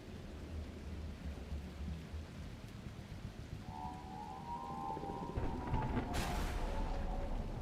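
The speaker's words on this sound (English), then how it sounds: "What? Another storm?" Thunderstorm ambience in the video game The Last Caretaker: steady rain noise throughout, with a low rumble of thunder building and a sharper crack near the end, no talking.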